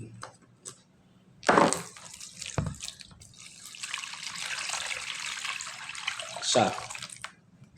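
Water pours steadily into a basin for several seconds, a hissing splashing stream, broken by a few thumps and clatters nearby.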